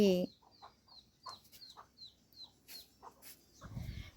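Soft, repeated chicken clucks in short bursts, fairly quiet, with a brief squawk at the start and some rustling near the end.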